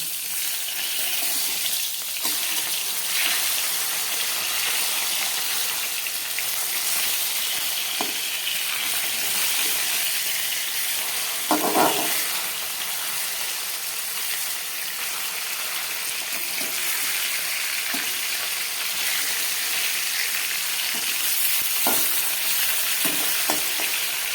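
Fish frying in a pan for a spiced fish curry with vegetables: a steady, loud, continuous hiss of hot oil, with a few brief clinks or bubbling pops rising over it, no voices.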